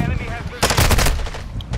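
Rapid automatic gunfire from the video game Call of Duty: Modern Warfare II, a loud dense burst of repeated shots lasting about a second, with faint game sounds before and after.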